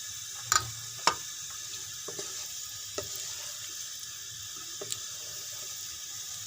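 Fenugreek seeds sizzle in hot oil with a faint, steady hiss broken by a few sharp pops and crackles, most noticeable near the start.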